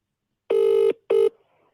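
An outgoing phone call rings with two steady electronic tones, the second shorter, each clean and prominent against near silence.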